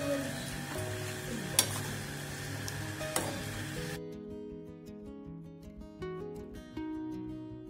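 White sesame paste fries in a pan with potatoes while being stirred. A close, steady sizzle runs under scraping spoon strokes for about four seconds, then gentle background music takes over with the frying faint beneath it.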